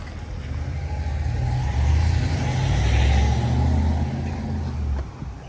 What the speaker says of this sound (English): It's a gigantic bus.